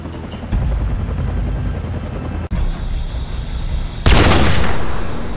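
Sniper rifle gunfire in the video game Call of Duty 4, with a steady rumbling game ambience and one sharp, loud shot near the end that rings out and decays.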